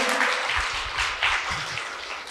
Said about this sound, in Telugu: అంత గ్రేట్ మాస్టర్ శ్రీ సత్య గారికి ఒకసారి గట్టిగా క్లాప్ చేద్దాం